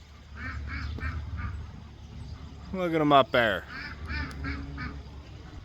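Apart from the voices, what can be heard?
geese honking in a field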